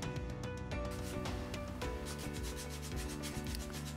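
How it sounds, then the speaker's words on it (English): Hand sanding of dried air dry clay pieces, a faint close scratchy rubbing that repeats in quick uneven strokes under a low background hum. "I sanded all the pieces down to make them a lot smoother"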